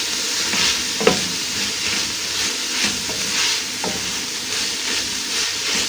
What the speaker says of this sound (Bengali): আমি এখন এইভাবে 2 মিনিট ভেজে নিব